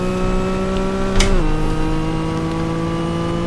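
An old race car from Mark Blundell's 1990 Le Mans qualifying lap, recreated in a racing video game, drones loudly and steadily at high revs, dips in pitch as the throttle eases off, then holds a lower sustained tone. No speech.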